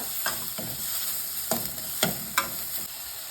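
Green chilies sizzle softly in a pan while a utensil stirs and scrapes against it a few times at an unhurried pace.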